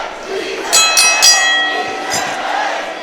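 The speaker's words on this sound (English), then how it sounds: "All right, referee Bill Alfonso calling for the bell." A wrestling ring bell clangs in three quick rings, then once more a moment later, ringing out over a noisy crowd at a live wrestling show in Miami.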